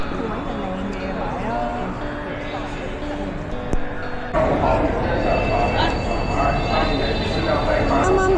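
High-speed train at Badaling station on the Beijing line to the Great Wall, a loud, steady rolling rumble that shifts and swells partway through, with voices faintly mixed in.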